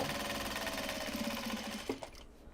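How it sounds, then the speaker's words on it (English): A sewing machine hums through a steady stitching run on upcycled obi and kimono fabric, its rapid even needle rhythm loud and close for about two seconds before winding down and stopping. "So let's actually sew tonight."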